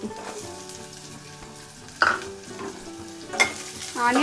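Chopped onion hitting hot oil in a pan while making palak khichdi, giving a steady sizzle with stirring scrapes and a couple of sharper bursts as more goes in, close and without talk.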